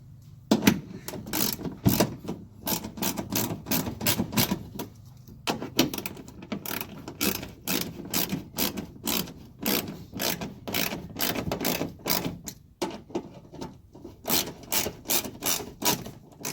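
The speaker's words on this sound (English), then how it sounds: "Gotta put the factory bolts back where you took them out." A ratchet wrench cranks factory bolts back into WeatherTech mudguards on a Toyota Tacoma, with rapid rhythmic clicking bursts repeating close up, broken by brief pauses between runs.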